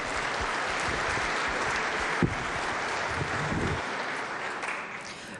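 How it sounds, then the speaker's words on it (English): Applause from a large group in the West Virginia legislature chamber, welcoming visitors seated in the gallery. The clapping is dense and sustained at an even level, then tapers slightly near the end. "please stand up and we'll give them a round of applause also"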